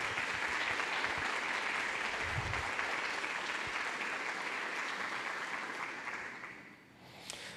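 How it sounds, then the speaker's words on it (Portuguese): A church congregation applauds warmly in a large room, a steady dense wash of clapping that holds for several seconds before thinning out and fading near the end. "eu queria que nós recebêssemos com muita alegria, com muito carinho, uma salva de palmas"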